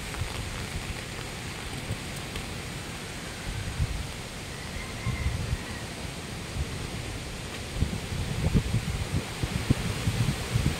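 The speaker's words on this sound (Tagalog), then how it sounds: "Pabugso-bugso ang hangin" Strong gusty wind blows steadily at seven in the morning during a heavy rainstorm, a dense roaring wash of noise with rain and rustling mixed in, swelling slightly louder toward the end.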